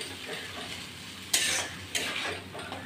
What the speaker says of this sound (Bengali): তো এটাকে আমি ভালো করে কষাবো, 5 মিনিটের মতো হতে দেবো।